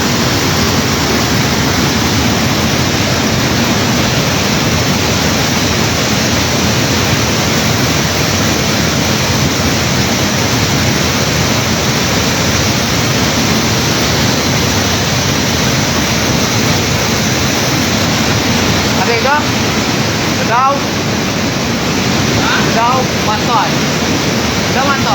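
The flooding Ketahun river in Lebong rushes past as a loud, constant roar of swollen water that fills the whole clip, with brief faint knocks near the end.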